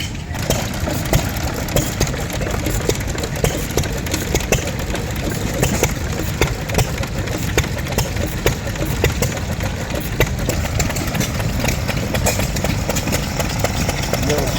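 A Petter diesel stationary engine runs steadily at a tractor show, a continuous rhythmic mechanical chugging with crowd noise and voices around it at moderate distance.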